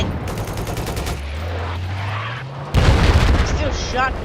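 A mounted machine gun on an M1 Abrams tank fires in the shooter game Battlefield 4: loud, rapid bursts of gunfire with booming impacts, with a player's voice talking over parts of the action.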